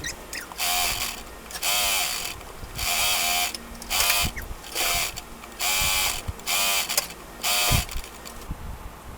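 A sewing machine stitches around a lace-fabric 3D Japanese-style face mask in about eight short mechanical whirring bursts separated by brief pauses, close and steady, with no talking.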